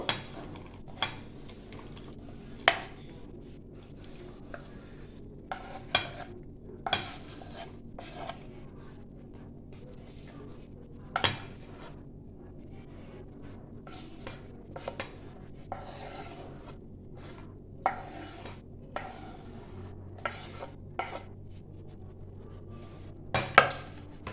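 Cut fruit pieces being mixed for fruit chaat in a bowl, with sparse clinks and scrapes of a spoon against the dish over a quiet background, no talking.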